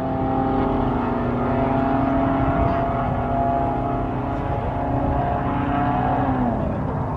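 A Subaru STI, Lexus IS350 and MK7 Golf R running a mile race: loud, close, sustained engine roar with gliding pitch as the cars pull hard, continuous throughout.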